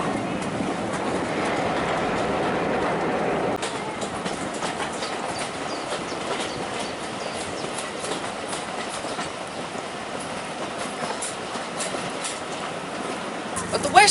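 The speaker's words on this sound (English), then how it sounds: "Leaving Wansford, trains pass through the 616-yard long Wansford Tunnel." Heritage train running through the 616-yard Wansford Tunnel on the Nene Valley line, a steady enclosed roar with rhythmic wheel clatter on the rails, loud and continuous throughout, shifting in tone partway through.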